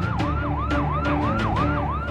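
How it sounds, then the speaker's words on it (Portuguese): A police car siren wails, sweeping up and down in steady repeated cycles, loud and close, over a low vehicle rumble. "Agora tá chegando uma viatura aqui."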